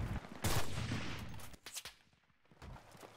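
Gunfire in the WWII shooter Enlisted: a few sharp, loud shots close by at the start, followed by scattered quieter bursts and a brief lull.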